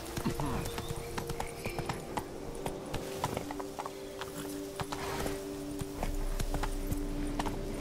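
Roach, a horse in The Witcher 3: Wild Hunt, gallops with steady, rapid clip-clop hoofbeats that run through the whole stretch under game music, with faint background voices now and then.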